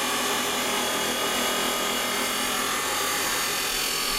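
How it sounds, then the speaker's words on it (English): A power tool cuts scrap steel to size while building a welding gas cart, a dense continuous grinding roar that stays loud and unbroken throughout, with no voices. "I'm cutting the steel now to size."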